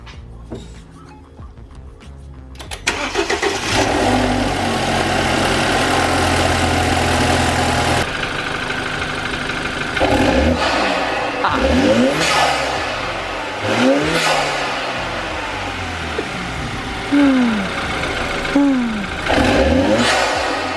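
A BMW 328i F30 N20 engine with an Injen intake cranks and catches, then idles roughly before a series of sharp revs rising and falling, loud and close.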